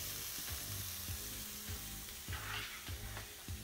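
Onions and carrots sizzle steadily in a pan, a close, even frying hiss broken by soft clicks and scrapes as they are stirred now and then.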